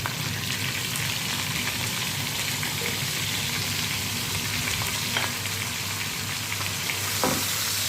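Spices fry in a pot of chicken biryani base with a steady, close sizzle that crackles evenly throughout, and no voices are heard.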